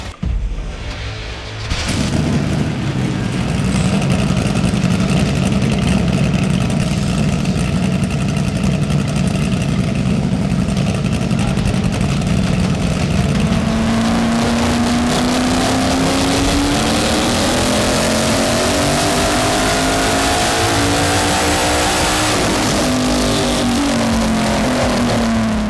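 A drag race car with a stock 4.8 engine in a Cutlass is cranked and fires up on a dyno, then holds a loud rough idle before revving up in long sweeping pulls, close and overpowering.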